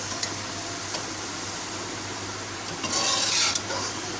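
Spoon gently stirring chicken macaroni with chopped capsicum in a frying pan, with soft scraping and a light sizzle under a steady low hum, close and fairly quiet.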